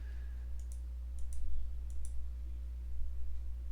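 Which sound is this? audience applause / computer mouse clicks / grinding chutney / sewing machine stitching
computer mouse clicks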